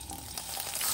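Dried tofu hits hot oil in a wok, giving a brief, loud, hissing sizzle that builds toward the end, with no voices.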